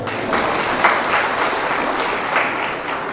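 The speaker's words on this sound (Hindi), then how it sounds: "जा जा बेटा, ताली बजा दो।" An audience bursts into brief, steady applause during a yoga class, the clapping continuing evenly for a few seconds with no talk over it.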